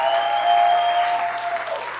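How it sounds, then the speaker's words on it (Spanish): A studio audience claps at the end of a Spanish-language program, a dense burst of applause that holds for about two seconds and slowly thins toward the end. "Vamos a darle un aplauso, ¿verdad?"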